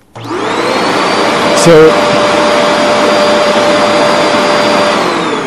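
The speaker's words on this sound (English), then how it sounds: "I'm gonna turn it on for a sec." A Shark Rotator Powered Lift-Away TruePet upright vacuum cleaner switched on, spinning up quickly into a loud, steady whine with a brief spoken word partway through.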